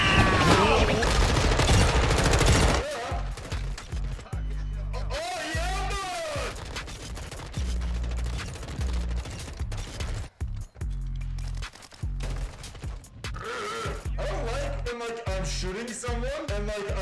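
Rapid bursts of automatic gunfire and single shots crackle through a Call of Duty match, loud and dense at first and then in repeated volleys, with a voice talking at times over the game sounds.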